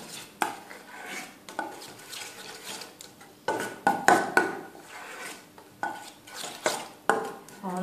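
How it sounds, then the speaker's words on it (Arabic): Pasta salad with pesto being mixed in a bowl, a series of uneven scraping and clinking strokes of a utensil against the dish, close, with short pauses between bursts. "نمسجهم جيدا."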